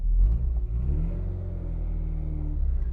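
A 1963 Austin Mini Cooper's engine runs with a low, steady rumble and a brief rev near the start, close and alone.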